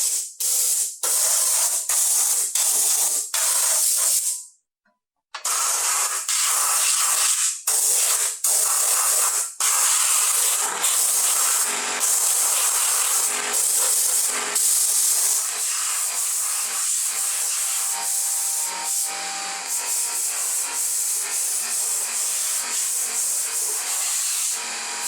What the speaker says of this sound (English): I'm going to use the air compressor and this little spray tool to spray out all the dust